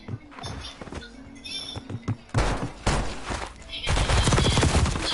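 Bursts of gunfire in the Call of Duty Warzone video game, Area 99 map: sporadic shots, then dense loud volleys in two heavy stretches, with faint game noise and no talk.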